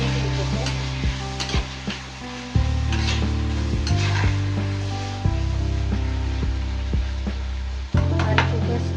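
Prawn gravy base sautéing with turmeric powder in a pan: a steady close sizzle with repeated stirring scrapes and clanks of the spoon against the vessel, no voices.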